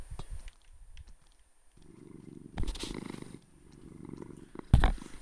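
A cat purring in the Minecraft video game, a steady low rumbling purr that runs for several seconds and swells in the middle, ending with a short louder burst, alone with no talk.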